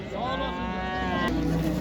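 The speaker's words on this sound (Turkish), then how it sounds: "Mombofon iri bir inek gördüm arkadaşlar" A large Montofon (Brown Swiss) cow gives a long, loud, close moo at a busy livestock market in Elbistan, with crowd murmur underneath.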